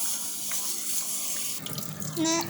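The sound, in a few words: washing green gram under running tap water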